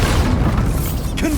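A Bombarda spell blast in Hogwarts Legacy, a loud, dense, rumbling explosion that fills the whole moment with a low boom and a brief whooshing tail.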